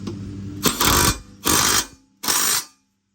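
On a Troy Bilt 46-inch zero turn mower, a power impact tool tightens the blade back on in three loud, harsh bursts of about half a second each, separated by brief pauses.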